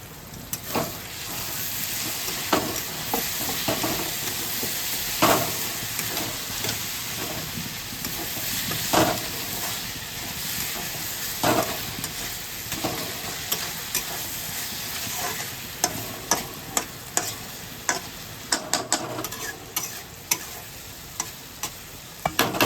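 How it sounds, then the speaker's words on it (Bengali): Food frying in a pan on a lowered gas flame, stirred after the lid comes off: a steady soft sizzle with repeated scraping and tapping of a spatula, sharper clicks clustering toward the end, close and without talk. "ঢাকাটা খুলে একটু নেড়ে দিচ্ছি"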